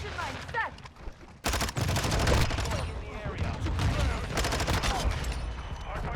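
Rapid gunfire from a Modern Warfare 2 match bursts in dense, loud volleys nearly continuously after a brief opening stretch, with players talking over it.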